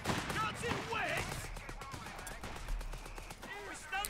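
Heavy machine gun fire crackles in a fast, dense stream during a strategy video game battle, mixed with other battle noise and fairly quiet overall.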